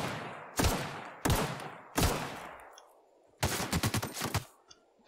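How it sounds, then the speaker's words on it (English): Gunfire in the video game The Outer Worlds: three loud single shots spaced about a second apart, each with a ringing tail, then a fast burst of several rapid shots. "What are you shooting at me for?"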